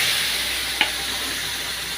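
Marinated biryani ingredients frying in hot oil, giving a steady, even sizzle with one brief clatter partway through and no talking.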